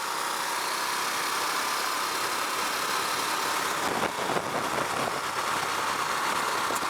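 A Husqvarna Vitpilen 701 motorcycle engine runs steadily while riding, a continuous mid-pitched drone with broadband wind rush, loud and close with no talking.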